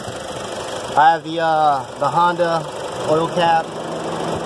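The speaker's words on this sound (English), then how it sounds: "sorry for the engine noise, but my car's running." A 2015 Honda Civic Si engine idles steadily in the background, a constant low hum running throughout while someone talks over it.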